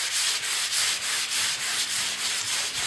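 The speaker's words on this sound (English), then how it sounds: "you want to use the same sandpaper, and you want to go with the grain of the wood" Sandpaper rubs steadily along the grain of a wooden buffet being refinished into a TV unit, scuffing a first coat of shellac, in close, even back-and-forth strokes with a soft rhythmic pulse and no talking.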